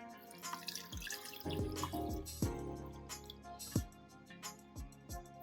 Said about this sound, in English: Place the ginger into a pot with the water.